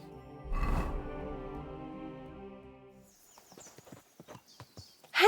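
Horse hooves clip-clopping during riding in Kingdom Come: Deliverance II, a run of quick, uneven hoof thuds that comes in after a low tonal swell, with bird calls faintly in the background.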